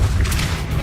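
Depulso force spell cast in the Hogwarts Legacy video game near a witch's sarcophagus: a loud, sustained low rumbling boom filling the whole moment, with no talk over it.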